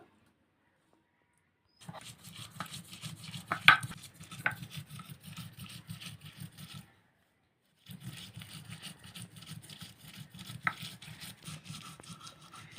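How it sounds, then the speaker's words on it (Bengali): Potato peels ground lightly into a paste, probably on a grinding stone: a steady rhythmic scraping and grinding that stops briefly partway through, then resumes, close and fairly even in level, with a few sharper knocks and no talk. "এবার খোসাটাকেও কিন্তু হালকা বেটে নেব"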